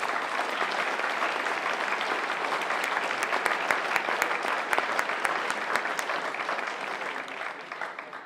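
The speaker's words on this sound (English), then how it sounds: "please give them a round of applause." Sustained applause from a crowd in a South Dakota Senate chamber, dense steady clapping filling the room at a fairly even level before tapering slightly at the end.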